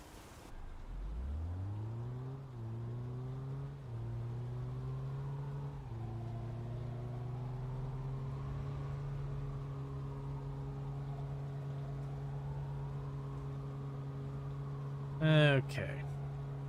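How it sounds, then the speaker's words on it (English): Car in the video game Big Ambitions starting and driving off: a steady engine hum rises in pitch through a few gear shifts, then holds an even drone, with a brief blip of another sound near the end. "And then we're going to enter our car and leave."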